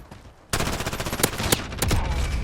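A P90 submachine gun in Call of Duty fires a loud, close, rapid automatic stream that starts abruptly after a half-second lull and runs unbroken, with a few sharper cracks standing out.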